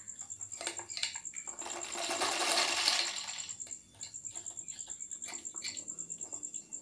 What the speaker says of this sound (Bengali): এরকমভাবে আমি হালকা হালকা টান দিয়ে সেলাই করে নিচ্ছি